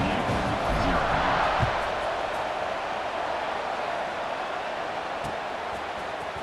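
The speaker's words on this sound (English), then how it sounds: "this crowd is buzzing after that last score" A football stadium crowd at an SMU versus Maryland game buzzes steadily after a score, a broad continuous roar of many voices, fairly loud and sustained throughout.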